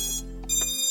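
A 5-inch FPV drone fitted with a T-Motor stack gives a short electronic beep tune right after its battery is plugged in, with a couple of quick close tones over a steady hum.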